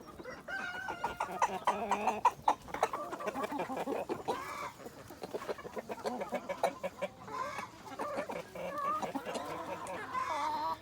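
Retired hens in their run cluck and murmur continuously nearby, a busy overlapping chorus of short throaty calls with occasional louder squawks.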